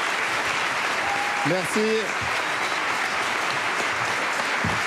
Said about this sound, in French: On peut applaudir bien fort, 13.